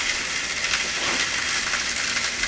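Sausages sizzle steadily in a frying pan with a constant broadband hiss and crackle, close and even throughout, with no voices.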